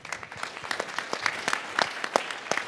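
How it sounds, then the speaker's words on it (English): Audience applause at an evening sales panel event, a dense patter of many hands clapping steadily at moderate volume for a few seconds, fairly close, with no talk over it. "Round of applause for Chris tonight."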